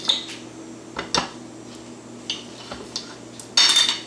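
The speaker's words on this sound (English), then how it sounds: "So I flip them over." Metal tongs clicking and clinking against a pan or grill while bone-in pork chops are flipped, a few sharp scattered taps over a low hum ending in a louder scrape.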